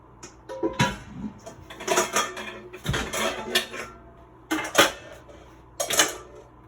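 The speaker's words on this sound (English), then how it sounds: "I'm going to transfer this to a bigger bowl" Bowls and utensils clatter and clink against each other up close while cake batter for a tres leches base is moved into a bigger bowl, in irregular bursts with no talking.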